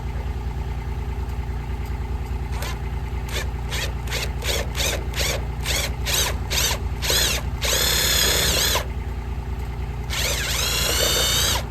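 A power drill drives a screw into old barn board on a hay barn, the motor whining in a series of short quick bursts, then two longer sustained runs, close up over a steady engine-like background hum.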